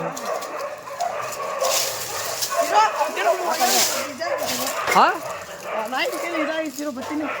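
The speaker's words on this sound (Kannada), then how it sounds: "ಅವೇನ ಕೂಗ್ತಾವ ನೋಡ" Several dogs bark and yelp in an irregular series, moderately close, mixed with whining calls over background noise.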